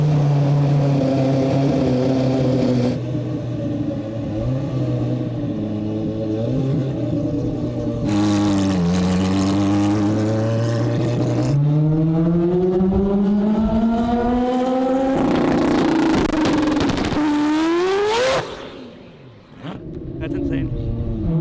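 A high-horsepower turbocharged car launches hard, its engine note climbing loudly through rising revs in several pulls with gear changes between them, then cutting off abruptly near the end.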